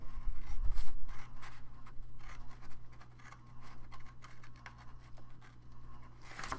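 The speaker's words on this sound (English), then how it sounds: "paper trimmer. So we're going to cut up to the line." A paper trimmer blade slices through paper for a simmer pot packaging craft, giving a run of soft scratchy strokes and brief rasps close by, with a low steady hum underneath and no talking.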